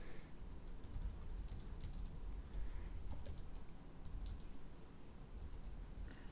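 Steady run of quick keystrokes on a computer keyboard, close and moderately loud over a constant background hiss, with no talking.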